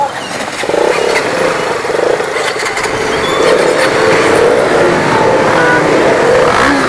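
KTM motorcycles on a group ride pull away together, engines droning and revving loudly and continuously up close, with wind rush layered over the steady roar.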